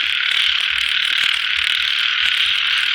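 Dense chorus of frogs croaking loudly and continuously in a Thai rice-field setting, with a steady high trill layered over rhythmic low pulsing calls, close and without talk.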